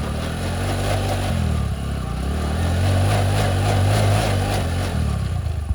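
A motorcycle engine runs close by at a steady idle with harmonic rumble, briefly dipping and then revving a little higher before settling, loud and continuous with no talk.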